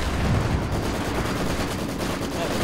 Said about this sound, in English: Start up bombardment.